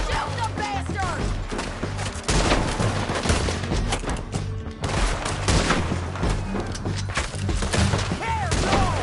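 Heavy gunfire and booming artillery from a Red Dead Redemption 2 battle, dense overlapping volleys rolling on for the whole stretch, with shouted voices mixed into the din.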